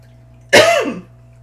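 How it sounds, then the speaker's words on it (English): A single short, close throat-clearing cough bursts out once, loud and rough, then fades within half a second against a quiet background hum. "I can't believe I'm having a coughing attack."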